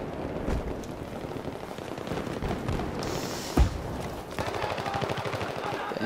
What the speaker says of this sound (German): Da hinten schießt wer.